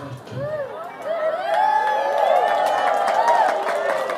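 An audience claps and cheers, the noise rising to a steady, loud wash of crowd sound. Voices shout over it.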